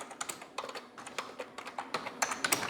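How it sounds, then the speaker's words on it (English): Quick, uneven keystrokes clatter on a computer keyboard as a letter is typed on a Packard Bell CyberTrio running Windows 95, close and fairly quiet, with brief pauses between bursts. "start typing your letter here"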